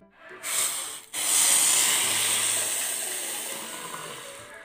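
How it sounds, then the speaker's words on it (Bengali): Water heating in a pot on a stove for tea gives a steady, fairly close broadband hiss with a soft rushing texture, briefly interrupted near the start before settling into a continuous steamy wash. "এই যে জল গরম বসে গেছে আমার"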